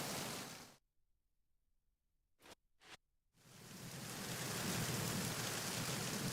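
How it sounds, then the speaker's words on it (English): Steady broadband rain in the video game Metal Gear Solid 2, loud and close, drops out into near silence with two short bursts, then returns as a constant wash of rainfall. "when you hear that, you hear the rain right there, that's a little bit of an audio cue"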